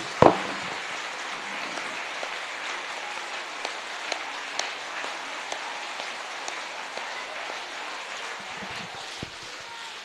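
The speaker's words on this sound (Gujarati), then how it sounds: "તો પાંચે આંગળીઓ જોડીને એક જોરદાર તાળીઓ ઉપર એક લય સાથે કરીએ." A large group claps together at a school's International Day of Yoga 2023 event in Deesa, making a dense, continuous wash of applause with small sharper accents scattered through it.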